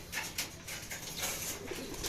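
Racing pigeons in a crowded loft setting in Talavera, Nueva Ecija give soft, steady cooing and faint rustling throughout, with no talk.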